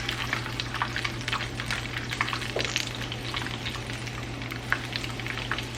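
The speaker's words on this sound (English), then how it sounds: "and pop it in and fry it." Battered asparagus spears frying in hot oil give a steady, dense sizzle with scattered crackles and small pops, close and continuous throughout, with no voices.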